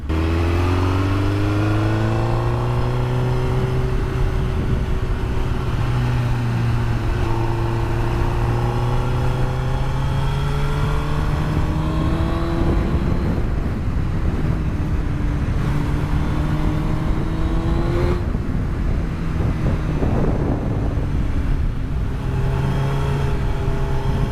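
A Suzuki motorcycle engine pulls and revs continuously while riding, its pitch rising and falling through gear changes, loud and close with rumbling wind noise throughout.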